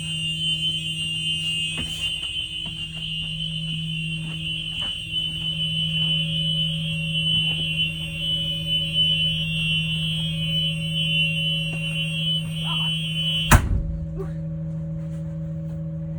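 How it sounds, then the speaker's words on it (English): A steady electronic buzzer tone from a Thomas school bus warning system drones continuously at moderate loudness with a high whine, cut off abruptly near the end by a sharp click. "Light and buzzer, both working"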